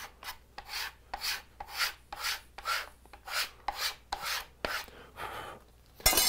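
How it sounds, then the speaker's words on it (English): A steel card scraper rasps across a leather strop to clear dark steel residue, about a dozen rhythmic back-and-forth scrapes, close and fairly loud, with no talk. "So I'm gonna take my card scraper and I'm gonna scrape off"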